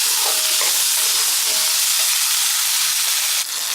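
Small onions sautéing in a pan for chutney give a steady broadband sizzle with a few soft stirring scrapes, close and alone, easing slightly near the end.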